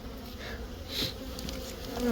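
Steady insect buzzing from many honeybees at an open hive, a continuous dense hum close by, swelling slightly louder toward the end.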